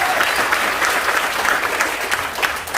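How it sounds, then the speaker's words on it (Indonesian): Steady applause from an audience at a business seminar in Surabaya, a dense wash of many hands clapping continuously and evenly at moderate loudness for the whole stretch. "Tepuk tangan dong buat kita semuanya"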